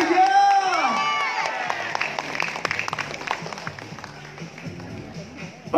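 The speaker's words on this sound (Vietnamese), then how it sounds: "rất cần có sự ủng hộ của quý vị bằng những tràng vỗ tay thật lớn đó mà" Audience at a beauty pageant for Vietnamese businesswomen in the US claps and cheers, starting with a loud burst of shouts and whistles that settles into steady applause.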